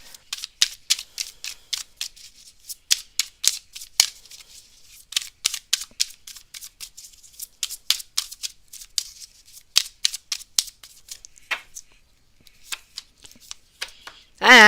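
Tarot cards being shuffled during a live reading, a long run of quick crisp riffling snaps in uneven bursts, close and fairly loud, with brief pauses between shuffles.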